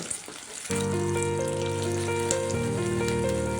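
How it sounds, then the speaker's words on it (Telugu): An egg fries on high flame in a pan for chicken fried rice: a steady, loud sizzle starts suddenly and holds, with a continuous hum underneath and no talk. "ఎగ్ వేగిపోయింది కదా"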